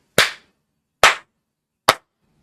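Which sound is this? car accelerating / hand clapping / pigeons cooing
hand clapping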